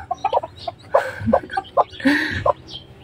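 Chinese Silkie chickens cluck in short, irregular bursts close by, with a longer throaty squawk near the end.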